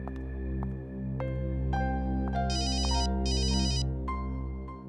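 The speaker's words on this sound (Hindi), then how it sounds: "देख लो, मुझे मालूम किसका फोन।" Mobile phone ringtone playing a bright repeating electronic melody with a short burst of trilling notes in the middle, loud and steady over a low hum, with no talking.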